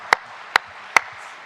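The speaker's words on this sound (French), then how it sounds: "On peut l'applaudir." At a forum gathering, three sharp, isolated handclaps ring out at even intervals, crisp and moderately near over a low background hum rather than a full round of applause.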